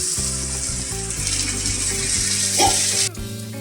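Water poured into spice masala frying in a pan for an egg poached curry, giving a steady close sizzle and bubbling with a brief splash near the end before it settles.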